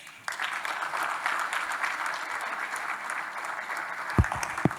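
An audience at an opening ceremony breaks into applause, a dense, even wash of clapping that starts abruptly and holds steady, with a couple of low thumps near the end.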